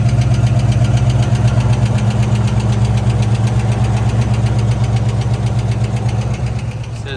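A 1966 Ford Mustang coupe with a brand new exhaust idles loud and close, a steady low rumble with an even throbbing pulse throughout and no talking.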